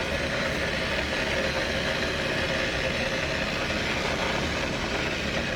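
A 24-inch Arboga Maskiner E830 geared drill press with power down feed runs steadily in high gear, giving a constant close mechanical whir and hum with no pauses or voices.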